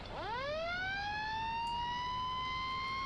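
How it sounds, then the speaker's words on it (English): A fire truck siren in Farming Simulator 19 winds up from low to a steady high wail, loud and continuous, with a bright tonal edge. "this fire truck has lights and everything as well, which is very cool. And it has a different siren"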